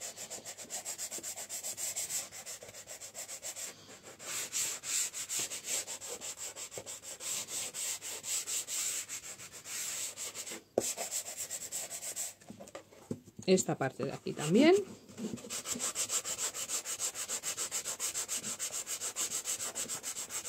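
Steady rasping of sandpaper rubbing back and forth over painted wood, close and continuous, with a brief spoken remark partway through.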